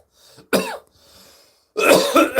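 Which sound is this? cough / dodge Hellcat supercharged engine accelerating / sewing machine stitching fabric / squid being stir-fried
cough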